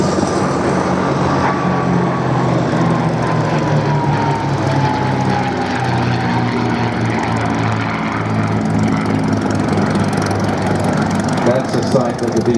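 B-17 bomber flying at the Duxford airshow, a loud steady drone of piston engines and propellers that slowly falls in pitch as it passes, continuous throughout, with a faint voice mixed in.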